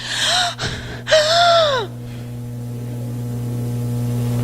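A voice imitates quick, heavy panting after a fast climb up stairs, two sharp gasping breaths close to the mic followed by a steady low hum.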